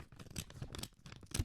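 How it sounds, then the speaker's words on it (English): Paper envelope being torn open by hand, with short crinkly rips and rustles in close, quiet bursts, no talking. "now I'll open the envelope"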